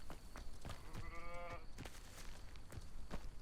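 A goat gives one short, wavering bleat in Hogwarts Legacy, rising clearly over a steady farmyard ambience with soft thumps and rustles around it.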